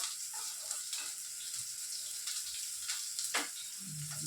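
Food fries in a kadhai, a steady soft sizzle with a few light stirring scrapes, quiet and close.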